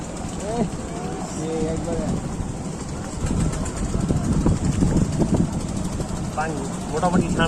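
A boat engine drones steadily while the craft crosses a flooded wetland forest on a cloudy day, a low continuous rumble heard beneath ongoing talk and voices.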